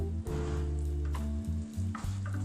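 Vegetable macaroni being stirred in a hot pan, a steady sizzle broken by a few scraping strokes of the spoon, close and fairly loud with a low hum underneath.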